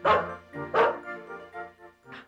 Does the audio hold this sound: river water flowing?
no